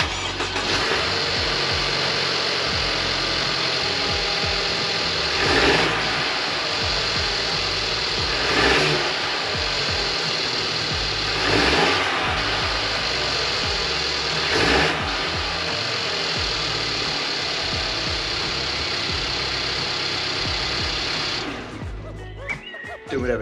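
A Mercedes C-Class W205 fitted with a K&N air filter runs at a steady idle, the engine note humming evenly with a few brief swells before it cuts out near the end.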